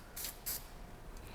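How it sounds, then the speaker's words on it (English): Two short hissing bursts from an aerosol can spraying sap, close by, followed by a fainter brief spray, against a quiet background. "Just spray the sap."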